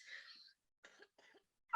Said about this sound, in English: Excuse me for coughing, sorry.